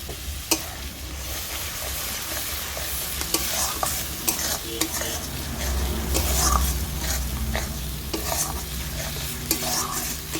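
Egg korma with cashew paste being stirred in a hot pan: steady scraping stir strokes with clicks against the pan over a continuous low sizzle, close and fairly loud, no talking.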